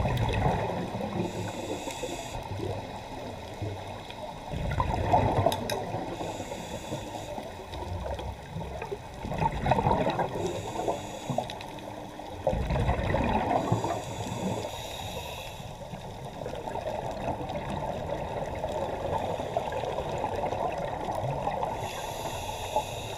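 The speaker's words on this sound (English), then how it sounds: "I'll keep quiet for a while so that you guys can enjoy the sound underwater" Underwater ambience on a reef dive at El Nido, Palawan: a continuous muffled rush and hiss of water with periodic louder swells of regulator breathing and bubbles, no talk.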